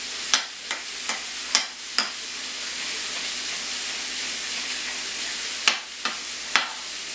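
Garlic and zucchini sizzle with a steady broad hiss in a pan at a lodge kitchen, with several sharp clacks of a utensil tossing the vegetables, loud and close, no talking.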